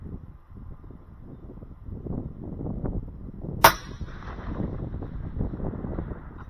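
A single sharp crack of a 22-250 Ackley Improved rifle firing a 68-grain Hammer bullet at a 612-yard target, one brief loud report over steady wind noise, with no distinct impact sound following.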